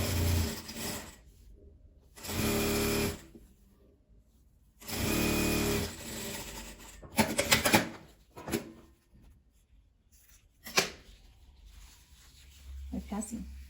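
Denim strips for a patchwork jeans bag run through a sewing machine in several bursts of steady stitching a second or two long, separated by pauses, scraping and handling noises of fabric.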